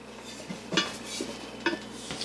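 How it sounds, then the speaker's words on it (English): A cast iron Dutch oven being handled, with a few light clanks and metallic knocks up close against a quiet background. "Now if I have a pan that's like a Dutch oven"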